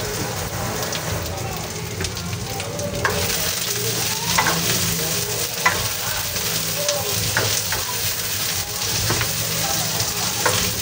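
Kikiam and chicken balls frying in hot oil give a steady, dense sizzle with crackling pops throughout, close and continuous with no talking.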